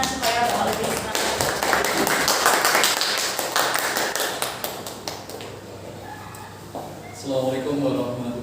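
At a teachers' orientation seminar, an audience claps for a speaker taking the stage. Quick, busy clapping fills the first few seconds, then thins out and fades, leaving quieter room sound and a few scattered claps.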